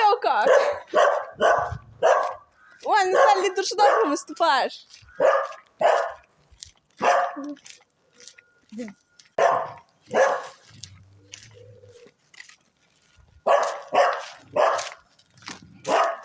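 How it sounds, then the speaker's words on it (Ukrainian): A dog barks in short, sharp bursts while a person talks nearby, the barks scattered between stretches of speech. "Не гавкай, тебе знімають."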